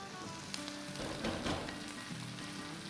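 Two large cut potatoes fry in a pan, a soft steady sizzle with faint crackles, quiet and close, no talking.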